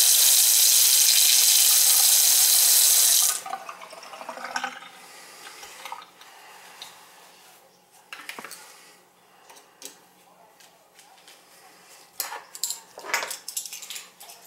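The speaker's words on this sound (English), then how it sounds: "Get a good flow there on the water," A Delta kitchen faucet with a dripping fault runs hard into the sink for the first few seconds with a loud, steady rush. After that the flow cuts off, leaving quieter clinks and handling sounds in the sink.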